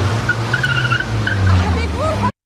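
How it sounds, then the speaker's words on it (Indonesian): In a film scene a car speeds off, its engine roaring loudly with tires squealing and skidding for about two seconds before an abrupt cut, while a voice talks over it. "Alex tersenyum dan langsung tancap gas dari sana."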